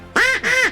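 Two loud, drawn-out duck quacks in quick succession, close by and clear, during a duck hunt in Alberta, with no talking.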